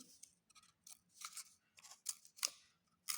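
Scissors snip through paper while cuts are made in the paper wrapping a cardboard tube for a children's craft; quiet, crisp snips come in short irregular bursts, close and alone.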